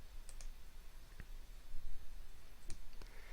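A computer mouse clicks a few times in a quiet room, sharp isolated taps spaced irregularly, faint and close.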